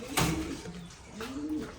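Soft, low cooing from a racing pigeon in a loft, two rounded calls with a short gap between, close by and quiet.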